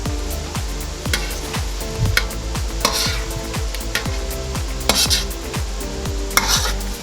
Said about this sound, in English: we're going to push them around a little bit and just kind of saute them in the butter